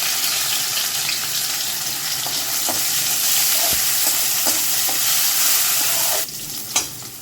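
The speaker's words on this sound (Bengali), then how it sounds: "এখন এর মধ্যে আমি এই চালটা, ভোগ চালটা আমি ধুয়ে রেখেছিলাম, এটা আমি দিয়ে দিলাম" Washed bhog rice is stirred into a pan of frying cumin and green chillies, giving a steady loud sizzle with scraping stir strokes that drops abruptly near the end, followed by a sharp clink.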